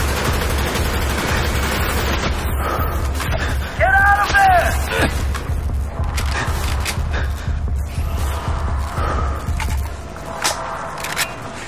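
Gunfire crackles through a Call of Duty Black Ops mission as scattered bursts and single shots sound under a steady low rumble, with a brief mechanical whine near the middle.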